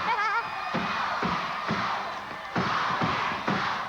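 A wrestling crowd at the Sportatorium during a USWA match, a loud continuous roar of many voices with a few thuds from the ring, filling the space throughout.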